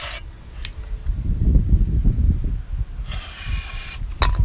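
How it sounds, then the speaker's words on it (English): A steady hissing spray of aerosol ether into a Chinese scooter's carburetor intake runs for several seconds alongside low rumbling, ending in a brighter burst of hiss and a couple of short spurts. "All right, spray a little ether in there."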